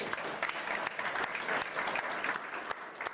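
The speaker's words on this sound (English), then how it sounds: "please join me in the round of applause for this wonderful panel" Steady applause from an audience at an energy-security panel discussion, dense clapping that fills the room without pause, fairly loud and even throughout.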